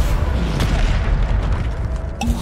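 Bombarda spell explosions in Hogwarts Legacy, a heavy low boom followed by rumbling blasts and sharp impact cracks, loud and close amid ongoing combat noise.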